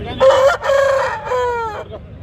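A rooster crows once, loud and close, in one long drawn-out call that rises and then trails off.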